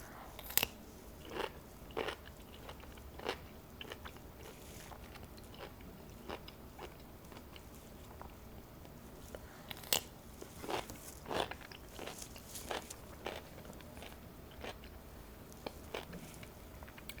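Grillo's dill pickle spears are bitten and chewed up close, with sharp, wet crunches at irregular intervals over a quiet background. Some bites are louder than others.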